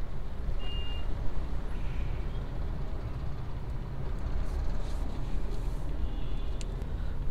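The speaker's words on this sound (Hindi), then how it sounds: "रास्ते में अभी है हल्का फुल्का ट्रैफिक है, ज़्यादा ट्रैफिक नहीं है, और हम लोग फ्लाई ओवर के ऊपर से जा रहे" Light road traffic passes on a flyover on the way to the Udayagiri caves in Odisha, a steady low rumble of vehicles with a faint beep heard near the start and again later, and no voices.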